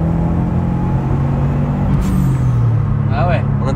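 A turbocharged Subaru Impreza P1's engine rumbles under load, then its dump valve releases with a short fluttering hiss of blow-off near the end.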